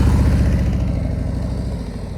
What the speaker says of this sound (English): Hear how steady his engine is?